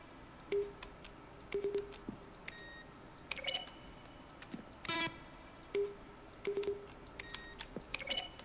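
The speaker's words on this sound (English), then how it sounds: "A selection of sounds used throughout the game when buttons are pressed" Button presses from The Office video game, each one a keyboard keystroke blended with a synthesized tone: a series of short, separate blips and clicks with gaps between them, clear and alone.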